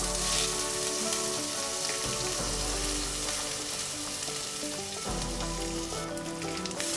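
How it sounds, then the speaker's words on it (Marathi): Washed rice with cloves, a piece of cinnamon and cardamom sautéing in ghee, giving a steady close sizzle and crackle throughout, with the odd soft scrape of stirring and no voices. "हे छान आपण तुपात छान असं परतवून घेऊया"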